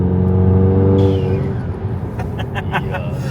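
A VW MK7 GTI engine revs hard with a steady droning roar, then drops off as a GFB vent-to-atmosphere blow off valve releases with a hissy whoosh and fluttering chatter, loud and close.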